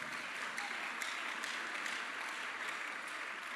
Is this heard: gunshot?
no